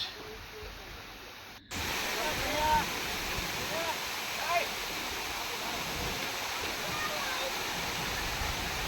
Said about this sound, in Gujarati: મિત્રો, ખળખળ વહેતું ઝરણું આપણને જાણે કે સુમધુર સંગીત સંભળાવતું હોય